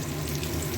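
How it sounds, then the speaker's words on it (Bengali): Tilapia fish pieces frying crisp in hot oil, a dense, continuous close-up sizzle and crackle at steady loudness, with no voices over it. "তবে মাছগুলো একটু কড়া করে ভেজে নিতে হয়।"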